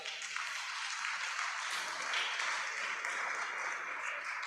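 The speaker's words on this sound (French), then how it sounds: "Veuillez applaudir pour le Seigneur." Audience applause fills a church youth conference hall, a steady broadband wash of clapping from a crowd that holds evenly for several seconds at moderate distance.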